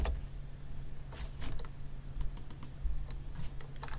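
Soft computer keyboard typing during work in Microsoft Access, with scattered quick keystroke clicks and short bursts over a steady low hum, fairly quiet and close, with no talking.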